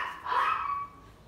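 Dogs barking at a truck passing in the street: one short, high, whining bark that trails off, heard alone at a moderate distance.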